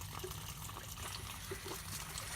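An opened valve on an in-ground pool cartridge filter lets water and air rush out in a steady, close hiss with a trickling gurgle, continuous and unbroken.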